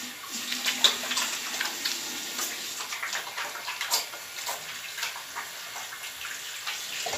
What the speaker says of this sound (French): je vais laver d'abord mes mains